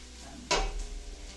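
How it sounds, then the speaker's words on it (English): Mushrooms with Italian sausage soup ingredients stirred in a soup pot, a single clattering scrape of a utensil against the pot followed by a soft low simmering rumble. "So let's give that a stir."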